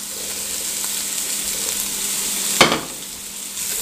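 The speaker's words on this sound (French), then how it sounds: "on remue un petit peu et puis on va faire revenir à couvert pendant environ 5-6 minutes" Vegetables for minestrone sizzle steadily in a pot, a constant frying hiss with one sharp stir or lid clatter partway through.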